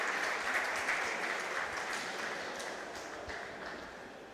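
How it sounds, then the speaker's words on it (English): A Welsh crowd at a Commonwealth fencing championship keeps up steady, roaring applause and cheering that fades slightly toward the end, with no clear voices standing out. "the Welsh crowd roaring their approval"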